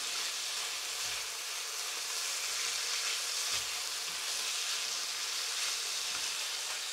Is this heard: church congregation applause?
no